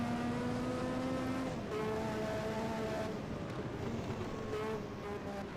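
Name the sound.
Formula 1 cars racing, McLaren overtaking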